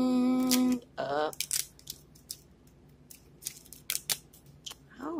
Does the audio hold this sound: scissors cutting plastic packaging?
yes